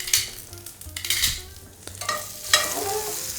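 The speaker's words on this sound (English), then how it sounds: "so I just want to pretty much dry fry these green beans" Green beans dry frying and being stirred in a pan with tongs for a vegan creamy pesto pasta, a steady close sizzle broken by metallic scrapes and clinks, with no talking.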